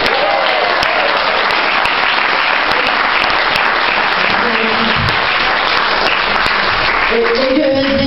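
An audience applauds loudly and continuously in a dense, steady roar of clapping that fills the whole stretch, with faint voices and tones near the end.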